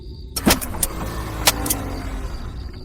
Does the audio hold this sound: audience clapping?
no